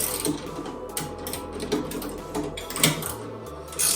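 A bolt is tightened while mounting the seat on a kart, giving a run of short ratcheting clicks and metallic turns, close and fairly loud, with no talk.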